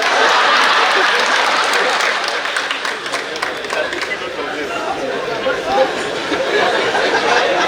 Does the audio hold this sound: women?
yes